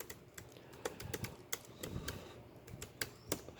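Typing on a computer keyboard, a quiet run of irregular clicks and key taps at close range with no talk.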